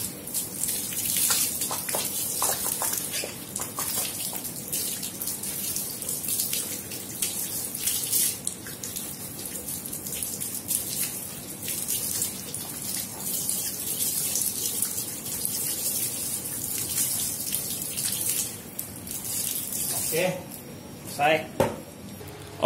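New filter cotton for an aquarium sump filter rinsed under a running tap: a steady close gush and splash of water that shifts as it is handled. Near the end it breaks into sharper splashes, with talk over it.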